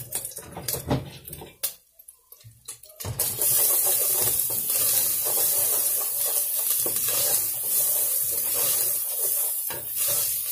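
Hot oil spatters and pops in a nearly dry pan topped up with a little olive oil while cooking a Sunday mocotó lunch; irregular crackles at first, then a loud, steady, close sizzle.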